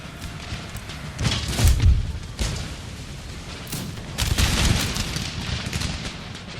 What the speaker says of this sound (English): It's just an absolute blaze of gunfire.